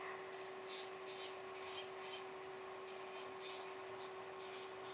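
An electric nail file drill spinning at 12,000 rpm against a fingernail, giving a steady high whine with soft rhythmic rubbing as the bit is guided across the nail, close and quiet, with no voices.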